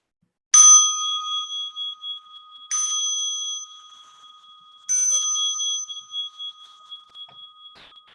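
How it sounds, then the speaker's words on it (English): A meditation bell rings three times at spaced intervals, each bright metallic strike leaving a long, pure ringing tone that fades slowly in a quiet room. "As you listen to the bell"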